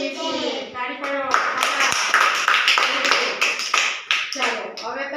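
Children in a classroom clap in a brisk, steady rhythm for several seconds, loud and close, with their voices sounding together over the claps.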